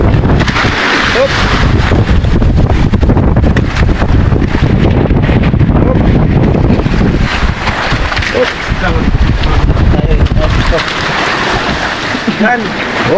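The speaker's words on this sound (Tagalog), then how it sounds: "Namumuti na yung dagat. Malakas kasi ng hangin." Strong wind roars over a rough, whitecapped sea as heard from a moving boat, a loud, constant rush with heavy microphone buffeting and water churning beneath, while someone talks intermittently.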